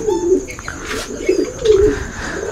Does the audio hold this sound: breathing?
no